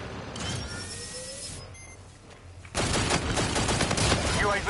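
Rapid-fire shooting from the legendary G-Rail gun in a video game, a dense burst of fast shots that starts suddenly halfway through and continues loudly after quieter game sounds.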